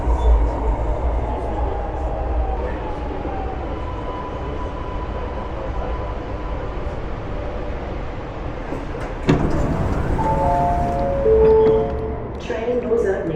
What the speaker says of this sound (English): Train doors opening